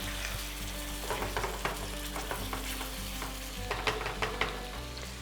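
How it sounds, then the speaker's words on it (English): Tuna pasta sauce sizzling steadily in a hot pan while a spoon stirs it quickly, with a run of light scraping taps over the constant frying hiss. "And then a little stir quickly."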